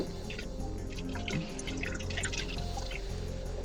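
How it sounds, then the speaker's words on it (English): Leftover pot noodle is poured down a drain, a quick, close liquid trickle with small drips and splashes running for a few seconds. "I was pouring my pot noodle down the drain"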